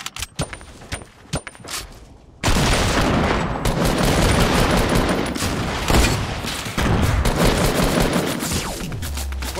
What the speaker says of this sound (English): Why is my gun shooting?